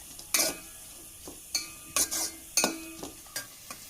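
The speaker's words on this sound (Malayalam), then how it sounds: "അപ്പോൾ നമുക്കിനി ഇതൊന്ന് വഴറ്റിയെടുക്കാം" Onions are sautéed in a pan for a Kerala-style chickpea curry, with a spoon striking and scraping the pan in irregular clinks and stirs over a faint, steady sizzle.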